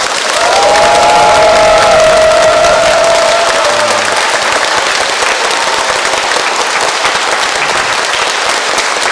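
A church congregation at Sunday Mass claps loudly and continuously to welcome newcomers, a dense roar of applause filling the whole stretch, with brief voices audible near the start.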